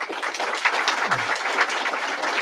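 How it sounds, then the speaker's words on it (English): An audience applauds at a school event with New York Governor Hochul, a dense, steady burst of clapping that fills the whole moment without any speech. "And I want to give her a special round of applause."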